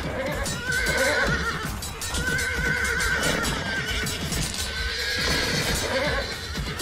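In the video game Animal Revolt Battle Simulator, a horse neighs and whinnies loudly in several repeated calls, with clip-clopping hoofbeats and battle noise underneath, and no speech.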